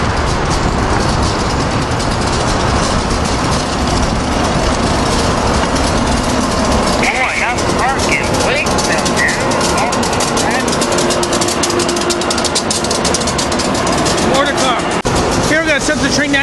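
AEM7 locomotive number 2307 running with its train, a loud continuous engine and rail rumble with clattering and squealing from the cars, while people talk over it.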